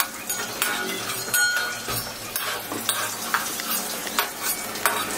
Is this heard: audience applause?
no